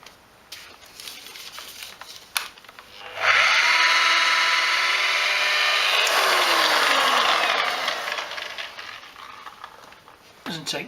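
A machine polisher works 3M polish into the paint of a Nissan N13 Pulsar, spinning up with a steady whirring drone that holds for several seconds and then winds down, with speech around it.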